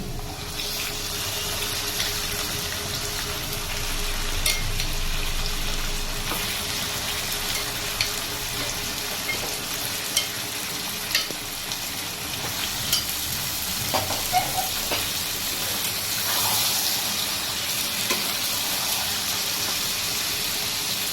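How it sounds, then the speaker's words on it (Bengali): Chicken sizzles and fries steadily in a pan with onions fried brown, a continuous close crackle with occasional stirring scrapes and no talk. "চলুন বন্ধুরা আমরা চিকেনটাকে ভালো করে কষিয়ে নিই"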